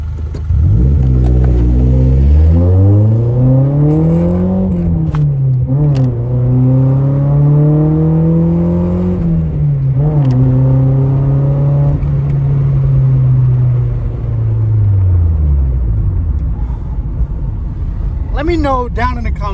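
A Nissan S14 Zenki car engine with a new aftermarket exhaust from Japan revs up loudly, its exhaust note rising and falling through several pulls before dropping off, then a brief higher whine at the end.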